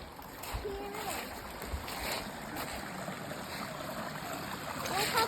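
A small creek waterfall pours in a steady, rushing broadband wash that carries on throughout, swelling slightly near the end, with faint voices in the background.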